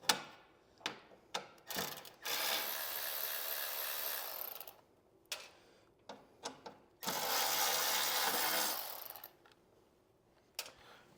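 A ratcheting hand tool whirs in quick bursts as bolts come out of a KTM 890 motorcycle during a gut guard install, with two longer stretches of steady rapid ratcheting between short clicks and metallic taps.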